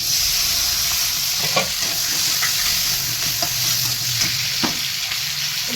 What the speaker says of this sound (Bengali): টমেটোগুলো ফ্রাই করব